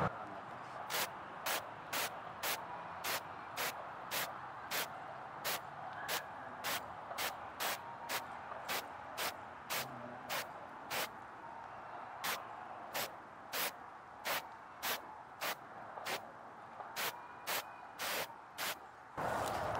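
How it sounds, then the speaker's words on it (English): Acetone sprayed from a can onto a mass piece of glass outdoors in the cold: a steady series of short, regular hissing spritzes, about one per second, close and fairly quiet against faint background noise. "This is an acetone spray,"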